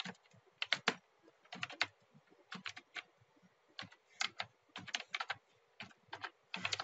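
Someone types CSS code on a computer keyboard, with quick bursts of crisp key clicks in uneven clusters and short pauses between, close and fairly quiet, with no voices.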